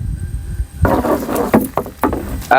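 A village boat moves through wetland water in rural Bangladesh. Irregular splashes and knocking paddle or hull sounds come up close and loud, with a breezy rumble underneath.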